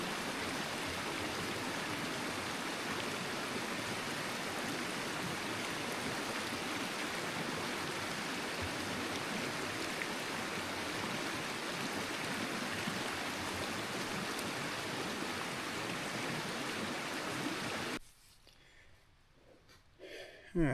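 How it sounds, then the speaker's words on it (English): A mountain stream on the Colorado Trail rushes steadily and close by for most of the time while water bottles are filled, then cuts to a quiet scene near the end. "I'm going to go back to the stream that we just crossed and get all the water filled up"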